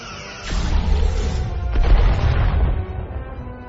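Starship weapons fire in Star Trek Resurgence: loud booming blasts and crashing impacts, two main bursts close together, heavy and near, with no talk over them.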